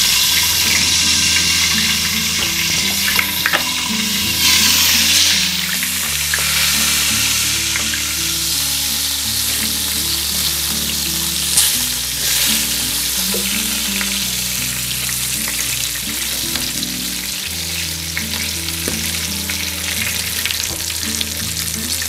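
Food fries in a CNTRONIC electric curry cooker with a pressure-cooker system, giving a steady close sizzle with wet crackling and occasional stirring clatter, continuous and fairly loud with no talking.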